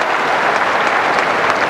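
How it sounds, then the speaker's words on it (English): A crowd applauds at a 1994 Mobil Netball Super League semi-final between Adelaide Garville and Melbourne Keas, a dense, steady wash of clapping from a large indoor audience, loud and continuous with no talk over it. "that even draws applause from the national coach, Joyce Brown, as she enjoys the skills of Ga"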